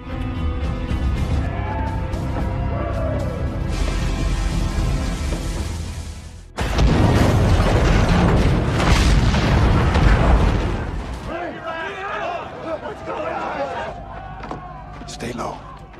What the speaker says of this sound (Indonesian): Travis meledakkan salah satu rumah untuk mengalihkan perhatian